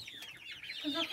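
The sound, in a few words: chicken clucking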